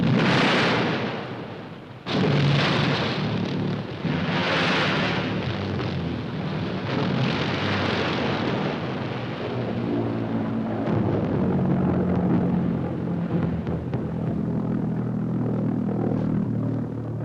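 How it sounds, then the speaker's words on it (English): A German V1 flying bomb from the Second World War, heard in archive film: loud, close blasts open the sound and give way to a sustained, heavy roaring rumble. "The German answer on a parallel principle, Vergeltungswaffe, better known at the receiving end as V1, the flying bomb"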